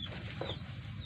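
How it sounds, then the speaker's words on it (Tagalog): Chickens clucking on a rural farm: a few short, faint clucks over steady low background noise in about a second. "may mga manok pa rito."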